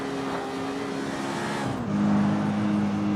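Synthetic engine note of a car in the racing video game CarX Street, a sustained droning hum that drops in pitch partway through as the car shifts, moderately loud and steady.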